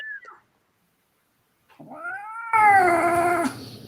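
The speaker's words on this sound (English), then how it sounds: "that cat is not feeling it right" A cat caterwauls close by: a short cry, a pause, then a long, rising, wailing yowl that swells louder and harsher before cutting off.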